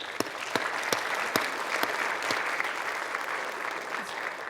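Conference audience at a GDC 2019 glTF and WebGL session applauds the speakers, a steady patter of many hands at moderate level with a few sharper claps standing out.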